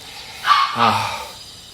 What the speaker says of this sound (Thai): น้องหมาเห่าอยู่